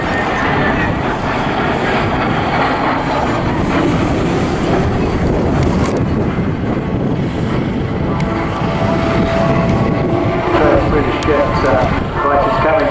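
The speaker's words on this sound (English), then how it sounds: "Here now, a rare sight seeing all three of these aircraft, and wow, this has turned into quite a dogfight." Three aircraft in a dogfight display at the 2017 Southport Airshow make a continuous loud, broad engine roar and rumble, with a commentator talking over it throughout.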